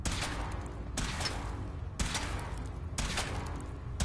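A weapon fires in the Fallout 4 video game, a loud booming shot repeated four times at an even one-second pace, each one ringing out briefly before the next.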